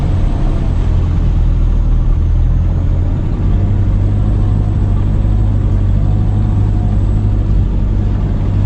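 A 2003 Toyota Hilux Tiger 4x4 with a 2500cc common-rail diesel crawls slowly over rough off-road ground. Its loud, close engine gives a steady, deep rumble with an even low drone throughout.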